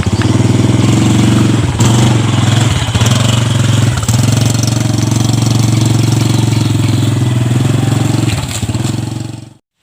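A motorcycle engine idles loudly up close with a heavy, even throb and a few brief dips, then cuts off abruptly at the very end.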